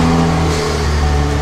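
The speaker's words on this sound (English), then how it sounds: "All right, so let's start the car up." A car engine turns over and revs steadily, a loud, close mid-pitched hum with strong low harmonics holding through the whole short stretch.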